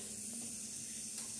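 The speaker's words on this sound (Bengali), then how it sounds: "বেগুন ভাজা হচ্ছে" Eggplant slices fry in a pan with a soft, continuous hiss and faint sizzle, quiet and steady, with no talk over it.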